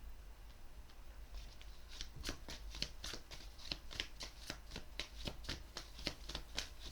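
Tarot cards being shuffled by hand, a quiet rapid run of crisp riffling flicks in an even rhythm, close to the microphone, starting sparse and growing denser, with no voices.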